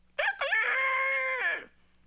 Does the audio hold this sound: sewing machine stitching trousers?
no